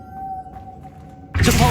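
In Hogwarts Legacy, a Lumos spell lights up: a thin sustained tone hums quietly, then a bright, loud shimmering burst of magic flares up near the end.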